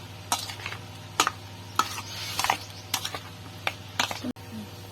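Chopped green jackfruit is being hand-mixed with mustard oil and Kashmiri red chilli powder in a bowl: a steady run of close, soft squelching and clicking strokes with a low hum beneath and no talking.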